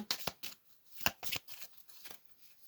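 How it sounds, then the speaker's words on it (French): Tarot cards shuffled and laid out during a full-moon reading, a run of soft, dry riffling and flicking bursts close by, irregular and fairly quiet, with no talk. "je vais rajouter 3 cartes"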